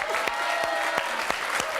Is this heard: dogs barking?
no